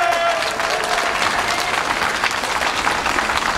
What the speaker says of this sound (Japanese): もう一度力強い拍手をお願い申し上げます。